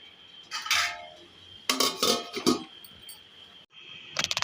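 Chicken biryani being mixed in a pot and covered with a lid: metallic scraping and clattering of a spoon against the pot in a few bursts, ending with quick clinks as the lid goes on.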